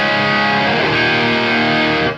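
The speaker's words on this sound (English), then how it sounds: "as you've heard right now, we're on the hot rod channel, the glorious hot rod channel." Electric guitar played through the hot rod channel of a Victory Super Sheriff VS100 valve amp with a Delverb in the chain: a loud, heavily distorted sustained chord ringing out steadily before cutting off at the end.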